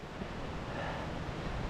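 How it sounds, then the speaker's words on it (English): Wind blowing tent fabric about at a hiking camp, a close, steady rushing and fluttering buffet with low rumble, no voices. "it's blowing the tent about a bit."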